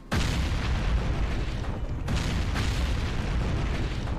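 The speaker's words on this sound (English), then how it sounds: "Kaboom!" A loud explosion in the video game Atelier Ryza, a sudden deep boom that rumbles on, followed by a second burst of blast noise about two seconds later, with no talking.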